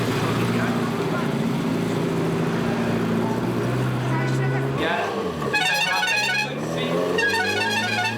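Classic Alfa Romeo cars pass by during the Tour Auto road rally, a low engine rumble building and then dropping away, with a bright whirring burst later and a commentator talking over it.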